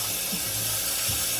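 Water runs steadily from a tap as the parts of a medicine syringe are rinsed clean of soap under cold water, a continuous hissing spray with no talking.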